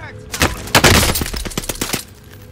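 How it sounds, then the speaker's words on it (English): Rapid bursts of gunfire in the Call of Duty Warzone video game, a quick volley of close, sharp shots followed by a few spaced single reports. "I'm getting shot up from behind."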